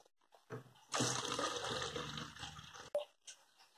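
A glass of water is poured into a blender holding passion fruit for a juice, a steady splashing pour lasting about two seconds, close and fairly loud, followed by a short clunk.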